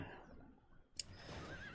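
Horses whinny in the Divide and Conquer: Gondor game, one short, bright neigh cutting through a steady din of battle noise near the middle, with no talk over it.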